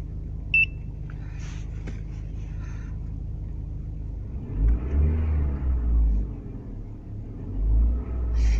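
A 1997 Ford Escort engine revs up, rising into a loud throaty roar under load, then eases and surges again over a steady low idle rumble.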